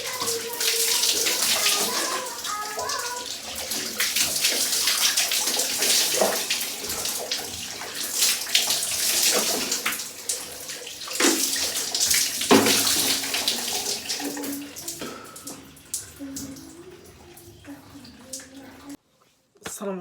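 Shower water running: a loud, continuous splashing hiss with irregular spatters, fading somewhat toward the end before briefly stopping, with someone speaking intermittently over it.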